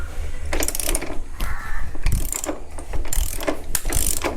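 A 24 box spanner works loose the axle nut on a Royal Enfield Bullet, giving close, loud metallic ratcheting clicks and clanks in quick irregular bursts with brief pauses, no voices.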